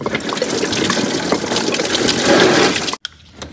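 Coolant gushes steadily out of a Ford Focus engine during water pump and thermostat work, a loud continuous pour that cuts off abruptly near the end.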